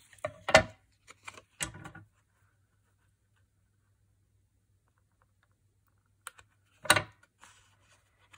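Larger pair of scissors snipping card stock for a 5x7 bench fold card, a few short sharp close cuts in two brief bursts separated by quiet, no talk.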